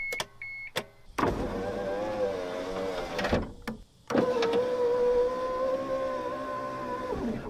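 Power window motor in a 1999 Mitsubishi Montero, running in two steady whirring strokes of a few seconds each, close and fairly loud, with short clicks and pauses around them.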